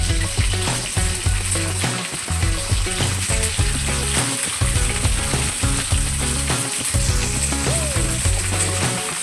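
Small onions fry in hot oil in a pan for a village-style fish curry, giving a steady close sizzle broken by repeated metallic clinks and scrapes.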